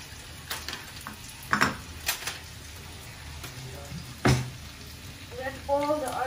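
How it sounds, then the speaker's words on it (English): Onions fry in hot oil for an Indian paneer dish, a steady sizzle broken by several sharp utensil clanks against the pan as they are stirred, with brief voiced sounds near the end. "And now we'll put onions. So now we'll stir the onions."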